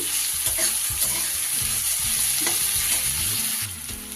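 Onions sizzle steadily in a hot pan after salt is added, as part of cooking a Gurjali fish curry, with repeated scraping and stirring strokes over the close, continuous frying hiss.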